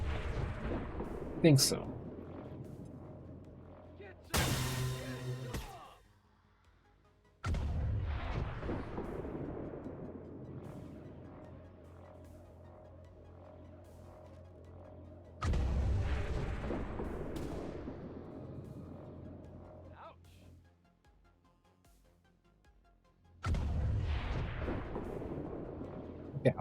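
Grenades lobbed and exploding in a video game: four heavy, booming blasts spaced several seconds apart, each rumbling and fading out, with a brief spoken remark between them.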